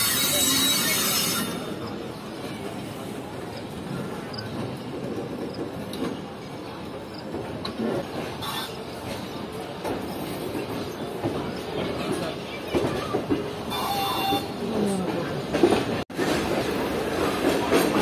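The Karachi Express pulls out of Hyderabad Junction, with continuous rumble and rolling rail noise from on board, steady and fairly loud, a sharp knock near the end.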